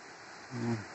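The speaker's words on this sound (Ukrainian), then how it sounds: "Там може чути Дніпро, реве і шумить" A steady, roaring rush of the Dnipro River fills the clip, a constant broad wash of water noise with a brief low murmur rising midway.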